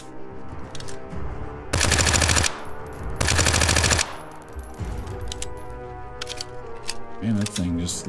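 A weapon in the survival game The Front fires two loud, sustained bursts of rapid automatic gunfire, each lasting under a second, set among quieter game ambience.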